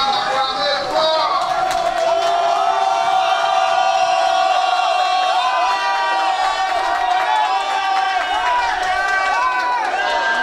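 A large crowd at a political rally in Côte d'Ivoire cheers and acclaims continuously, with loud shouting, whoops and chanting voices layered together throughout.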